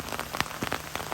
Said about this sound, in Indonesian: tiba-tiba cuaca jadi hujan deras seperti ini